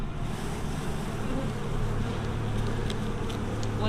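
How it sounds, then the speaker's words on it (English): A honeybee swarm buzzes steadily outdoors, a dense continuous drone that stays loud and close throughout with no talking. "And there's still quite a few bees out here."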